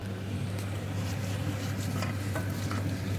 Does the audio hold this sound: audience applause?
no